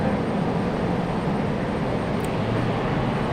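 A jet aircraft at Raleigh-Durham International Airport, heard as a steady, loud, broadband roar with deep low rumble, continuous and unbroken without voices.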